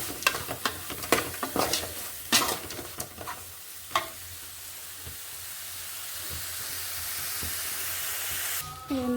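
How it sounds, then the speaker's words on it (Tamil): Dried fish sautés in a pan with a soft sizzle, broken early by sharp scraping and tapping strokes of a spatula, then settling into a quieter steady hiss before a brief clatter at the end. "இதில் கருவாடு போட்டுருக்கோம் நல்லா வதக்கிட்டு"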